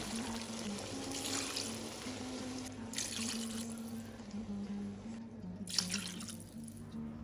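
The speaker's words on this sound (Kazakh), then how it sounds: "Төрт стакан суық су құямыз." Cold water poured into a pot for Uzbek plov with carrots, a steady running, splashing stream lasting throughout at moderate level, with a low hum beneath it.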